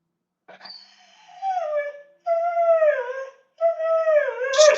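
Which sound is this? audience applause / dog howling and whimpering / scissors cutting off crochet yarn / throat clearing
dog howling and whimpering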